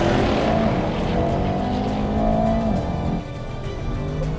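A 2021 Audi RS6 and a Mercedes-AMG E63S drag race, engines roaring loudly with rising tonal whines as they accelerate hard, then a drop in level as one shifts, with no talk over it.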